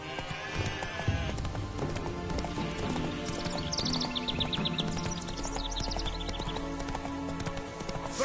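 A horse trotting in The Witcher 3, rhythmic clip-clopping hooves close up with a brief whinny, game music and birdsong underneath.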